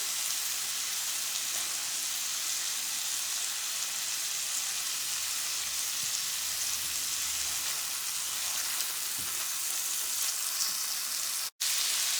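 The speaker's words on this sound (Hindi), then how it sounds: "टमाटर और ओनियन को कुक करते हुए ये मसाले भी डाल देंगे।" Tomatoes and onions fry with spices over a medium flame, giving a steady, dense hiss of sizzling oil that holds even and close, with one brief dropout near the end.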